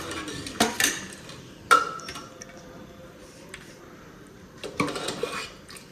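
A hot metal ladle knocks and scrapes against a pot while kadhi pakora is served at home: a few sharp clanks and a scrape, spaced irregularly over a quiet background.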